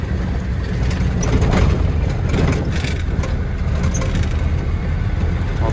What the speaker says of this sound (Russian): От машины звук. Грузовик у меня большой, здоровый.